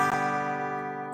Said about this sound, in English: So the normal chord would sound like this